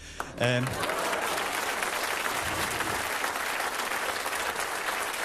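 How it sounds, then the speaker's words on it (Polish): A cabaret audience breaks into loud, sustained applause that fills the room, with a brief vocal sound just before the clapping swells. "Dziękuję za szalone brawa, jesteście kochani."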